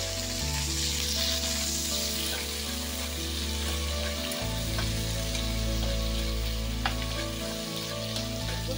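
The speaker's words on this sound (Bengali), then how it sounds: "পেঁয়াজটা একটু ভাজা হলে ফিরে আসি" Two medium-sized onions frying in hot oil with tempering spices: a continuous, even sizzle and crackle close by with a few soft stirring scrapes, no voices.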